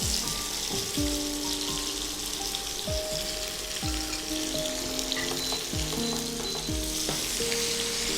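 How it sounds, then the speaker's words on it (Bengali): Cumin seeds and chopped onion frying in a pan, giving a loud, continuous close-up sizzle with a faint background of repeated gliding tones running underneath. "জিরেটা একটু ভাজা হয়ে গেলে আমি এর মধ্যে দিয়ে দেবো পেঁয়াজ কুচি"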